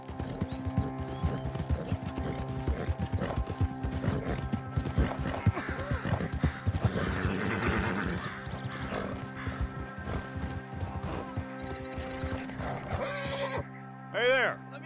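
Horse hooves clip-clop steadily with a short whinny near the end, set in the Red Dead Online video game, under close talking voices and a background music bed.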